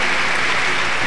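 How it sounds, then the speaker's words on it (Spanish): Dense, loud applause from a concert audience, steady throughout with no pauses. "para quien pido un fuerte aplauso"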